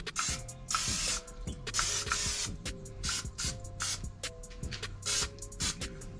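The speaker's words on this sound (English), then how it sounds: "I'm going to get some more spray butter." Repeated bursts of spray butter from a pump bottle coat a spatchcock chicken on the smoker, loud close hisses separated by trigger clicks and short gaps, steady rhythm, no one talking.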